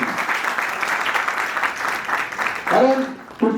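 An audience at a college road safety awareness event applauds police officers with a burst of steady, dense clapping, which then fades as a voice begins speaking.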